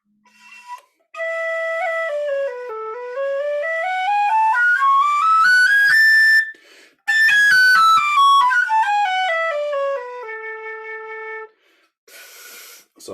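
A tin whistle plays a clear, bright melody that climbs up the scale in stepped notes, pauses briefly, then descends again.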